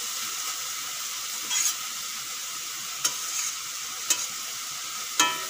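A pan of radish greens with dried shrimp keeps up a constant hissing sizzle while being stirred, with a few distinct spatula scrapes spaced a second or so apart.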